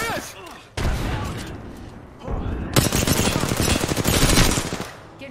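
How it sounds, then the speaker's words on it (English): Rapid bursts of automatic gunfire from an Apex Legends match, loud and dense, firing in sustained volleys with brief gaps, close and heavy across the clip. "Getting shot at."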